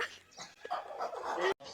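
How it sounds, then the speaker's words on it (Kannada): A village dog met on a morning walk gives brief, soft yips and whimpering barks, close but faint, ending in a short gap. "ಇದು ನಮ್ಮೂರ್ ನಾಯಿ"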